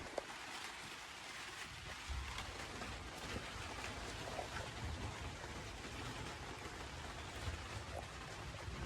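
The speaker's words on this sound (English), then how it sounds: "just started raining as well." Rain starting to fall outdoors beside a Ford Sierra Cosworth, a soft, steady patter of drops on surfaces, faint and continuous with no voices.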